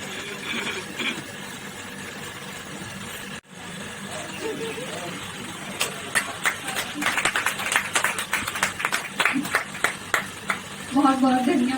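An audience at a Hindi poetry gathering breaks into scattered clapping that builds into fuller applause, following a stretch of hum and background chatter, with a voice rising at the end.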